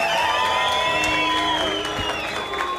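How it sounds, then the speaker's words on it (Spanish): An audience at a live Colombian comedy show cheers and whoops with clapping underneath, a dense, continuous crowd roar with high shouts and whistles throughout the short stretch. "¡Fuerte el aplauso para Pierna Loca, damas y caballeros!"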